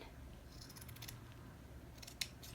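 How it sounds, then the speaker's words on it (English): Scissors cutting fabric in short snips, a quick cluster of faint crisp cuts followed by a second small burst, close and quiet over a soft background hiss. "what sometimes helps is if you cut"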